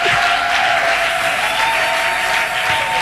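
Loud, dense applause rises from a church congregation, continuous and close, with cheering mixed in and no speech over it.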